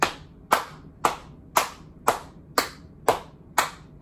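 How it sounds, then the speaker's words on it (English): Children at a storytime pat and clap along in a steady beat: eight crisp, evenly spaced claps about half a second apart, close and clear with no talking between them. "we're gonna keep patting and clapping"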